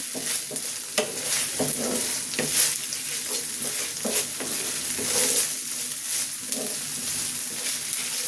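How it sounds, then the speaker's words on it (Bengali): Koi fish bhuna with green chillies and ground ginger frying in a pan, a steady close sizzle broken by repeated scraping stirs of a spatula, with no voices. "একটু কাঁচামরিচ দিয়ে দিচ্ছি। একটু ভালো করে আবার ভেজে নিচ্ছি।"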